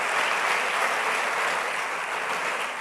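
A church congregation claps together in a sustained, dense round of applause that fills the room evenly from start to finish.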